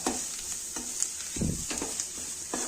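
Tomato puree going into a sizzling pan while cooking a wedding-style cauliflower curry, with steady frying hiss and repeated stirring scrapes at a close, moderate level.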